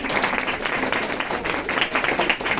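Audience applause at a Brahma Kumaris centre New Year 2024 celebration in Delhi, a dense, steady wash of many hands clapping close by, sustained evenly throughout with no talk over it.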